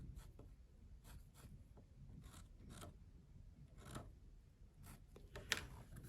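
A pen or marker scratches short strokes across fabric while marking a corner for a toiletry bag, quiet repeated scrapes and rubs close up with no talking.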